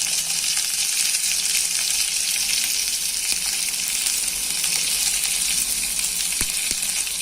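Onion and garlic sautéing in hot oil for kara kuzhambu, a dense, continuous sizzle that holds even and fairly loud throughout, with a couple of faint taps near the end and no speech.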